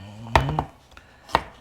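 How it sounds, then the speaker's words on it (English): A knife chops smashed garlic on a cutting board while pasta with San Marzano tomato marinara is prepared, giving a few sharp close knocks: three in quick succession, then a single louder chop about a second later. "Chop out the garlic."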